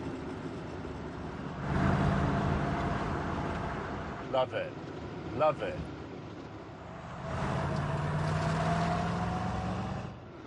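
Neil Armstrong's Chevrolet Corvette, a 1960s car in The Grand Tour video game, gives a low engine hum that swells twice into a louder rumble, with a voice speaking briefly between.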